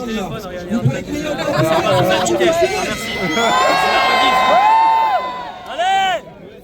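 A crowd at a lively show event chatters, shouts and cheers loudly. A wailing siren rises and falls above the noise, and an announcer's voice is heard among them.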